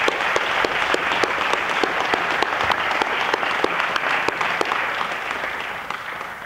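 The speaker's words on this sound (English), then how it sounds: "I want you to give yourselves a round of applause." Sustained audience applause fills a room at a community health organization's annual meeting, dense steady clapping with a few sharper individual claps standing out, holding level before easing slightly at the end.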